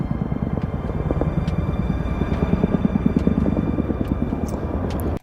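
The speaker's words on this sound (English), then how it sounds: "the major helicopter activity by the military has been caught on video" Military helicopter passing overhead, a loud steady rotor chop with a rhythmic thumping pulse that holds for several seconds before cutting off abruptly.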